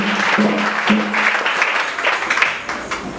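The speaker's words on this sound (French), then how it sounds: "Acclamons très fort." A church congregation applauds in a continuous wash of clapping that carries on for several seconds, with a voice calling out over it.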